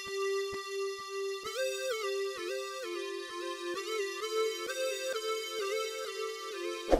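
A bright cheap lead synth from Purity with a delay preset plays a sustained, wavering melody over a steady ticking pulse, notes echoing and blending into one another.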